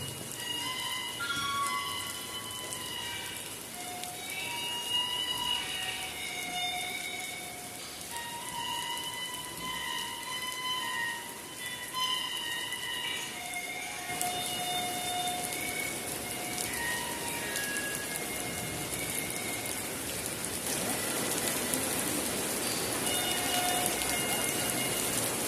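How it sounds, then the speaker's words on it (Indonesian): Steady rain falls on garden plants in a village, a soft continuous patter with scattered louder drops, joined by faint bird whistles and brightening into a heavier hiss near the end. "Sekarang nggak usah karena dikirim hujan langsung dari atas."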